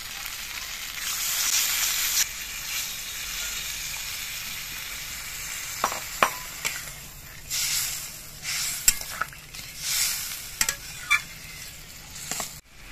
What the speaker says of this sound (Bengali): খানিকক্ষণ কষিয়ে নেওয়ার পর এর মধ্যে আমি নারকেলের দুধটা দিয়ে ঝোল দিয়ে দিচ্ছি।